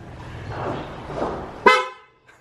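A loud, bus-like vehicle horn in Angeles City, Philippines gives one sharp close blast after a stretch of engine and background rumble, then cuts off to near silence.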